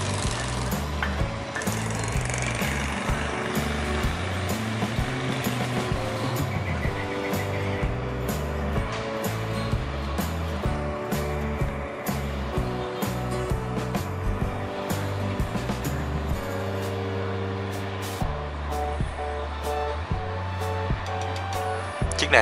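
A high-speed boat with a Rolls-Royce MTU engine runs throughout with a loud, rough mechanical roar. The rumble is steady and close, and its pitch shifts a little as the boat moves off.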